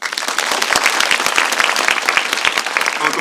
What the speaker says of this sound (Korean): 오늘 함께 해주신 많은 분들께 큰 박수 드리면서 마무리하겠습니다